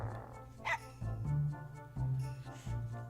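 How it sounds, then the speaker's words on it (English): A dog barks a few times in the video game Mega Man Legends, with short yips over steady game music and background sound. "the dog is barking at her"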